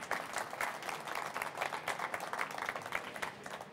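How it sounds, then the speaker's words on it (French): An audience applauds at a diploma and trophy ceremony at the Sirha food trade show, with steady dense clapping throughout that stays moderately distant and never lets up. "On peut vous applaudir"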